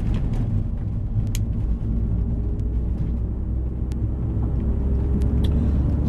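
A MINI Cooper S R53 JCW GP1 driving slowly on a bumpy open road, its engine a steady, loud low rumble heard from inside the car, with faint clicks and rattles on top and no talking.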